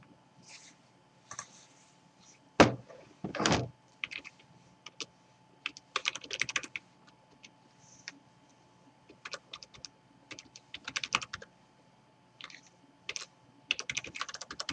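Someone types on a computer keyboard in short, irregular bursts of crisp key clicks, with pauses between flurries and one louder thump near the start, in an otherwise quiet room.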